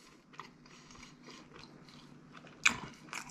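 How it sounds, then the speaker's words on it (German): Quiet crunchy bites and chewing into a leftover sandwich, a series of soft close crackles with one sharper crunch near the end, no talk. "Wenn ihr hier oben schon abbeißt, bleibt hier unten ja immer noch was übrig."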